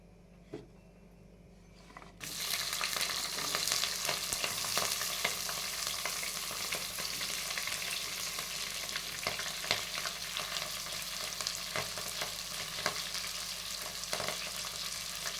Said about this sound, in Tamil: ஒரு 4 பெரிய வெங்காயம், 5 பச்சை மிளகாய், கருவேப்பிலை இதெல்லாம் சேர்த்து நல்லா வதக்கிட்டேன்